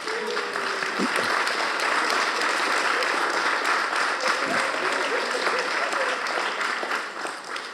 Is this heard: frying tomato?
no